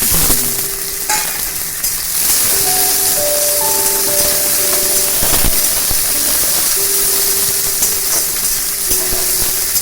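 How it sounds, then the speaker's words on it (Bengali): Diced potato fries with onion and green chili in a pan over a medium gas flame, a loud, continuous sizzle broken by a few light clinks of stirring, with no talk. "গ্যাসের ফ্লেমটা মিডিয়ামে রেখে আমি আলুটা একটু নরম হওয়া পর্যন্ত ভেজে নেব"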